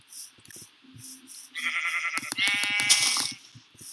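Sheep in the Minecraft video game bleat several times in short game-sound calls, followed by a louder, denser stretch of bleating and clatter in the middle of the clip.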